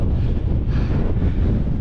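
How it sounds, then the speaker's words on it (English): Strong gusting wind on an open mountain fell buffets the microphone in a loud, continuous rumbling roar that swells and eases without a break. "Wind's really gusting"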